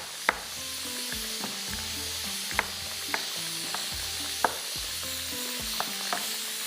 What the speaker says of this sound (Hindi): कीमा जाएगा, थोड़ा सा इसको कीमे को भूनेंगे इसके साथ। बेशक तेज़ आंच पे भूनेगा